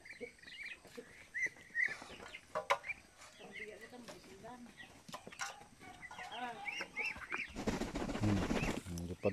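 Hungry ducks quack and chatter in short, irregular bursts close by, growing busier toward the end, with a voice speaking briefly among them.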